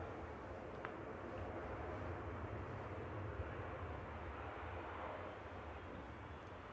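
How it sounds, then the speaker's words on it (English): A Ryanair jet from Santander touches down on runway 23 right at Manchester Airport, heard as a faint, steady, distant engine rumble and roar that holds evenly throughout with no voices. "Ryanair's just touching down now on 23 right."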